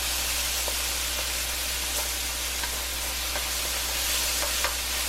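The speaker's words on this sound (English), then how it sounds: "Then you just wanna go ahead and add in your veggies." Frozen vegetables hitting a hot stir-fry pan with oil and minced garlic, a steady loud sizzle and hiss with light scattered crackles throughout, close up and without talk.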